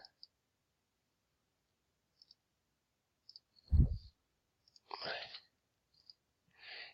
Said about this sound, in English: So just keep clicking, clicking.